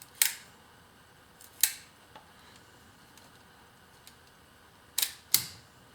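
Zeiss Ikon Nettar folding camera shutter mechanism being cocked and operated, heard as a few sharp, close mechanical clicks spaced apart in a quiet room, with two louder snaps near the end.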